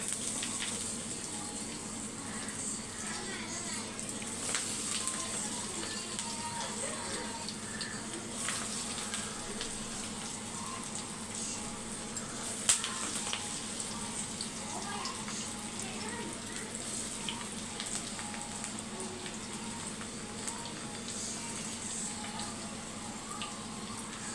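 Drumstick leaf vada frying in hot oil, a continuous even bubbling sizzle throughout, with a person talking over it.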